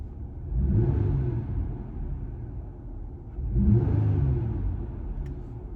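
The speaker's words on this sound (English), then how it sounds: "Let's rev it a couple times." A Jeep Gladiator engine is revved twice in quick succession, each blip swelling to a deep rumbling roar and settling back to idle, close and steady with no talking.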